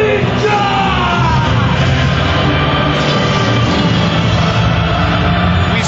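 A Corinthians football crowd roars and chants in Yokohama stadium, a dense, loud, unbroken wall of massed voices filling the whole stretch.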